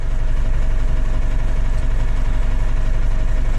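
A DAF LF truck engine idles steadily at close range, a constant low rumble and vibration with no voices over it.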